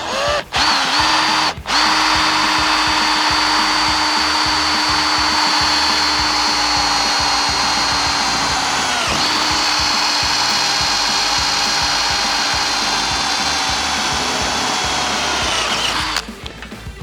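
A 6mm bit drilling a hole through the metal of a car body to fit a bush cable limb riser, the drill whining loudly and steadily for about fifteen seconds, with a brief spin-up at the start.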